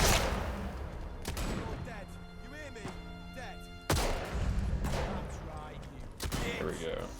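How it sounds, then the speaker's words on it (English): Battle rifle shots in Atomfall, a few loud spaced single reports each trailing off into a ringing decay, with other game sounds and a voice talking between them. "Next, we'll do the battle rifle. Gonna make sure we line our shots up."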